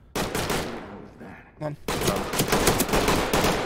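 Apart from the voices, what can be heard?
gunshots fired through a door in the video game Ready or Not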